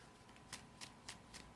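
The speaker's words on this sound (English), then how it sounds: "We'll go ahead and shuffle the deck." A sleeved deck of Pokémon trading cards is shuffled by hand, giving four quick, soft bursts of riffling at an even rhythm, faint and close with no talk.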